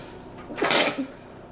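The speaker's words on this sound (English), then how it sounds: "excuse me, I had to sneeze" A single sharp sneeze bursts out close by, a breathy explosive blast followed by a brief voiced tail.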